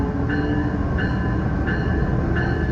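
Near Blue Island, a Metra Electric commuter train on the old Illinois Central route passes with a continuous heavy rumble and evenly spaced, repeating whining tones from its wheels and motors.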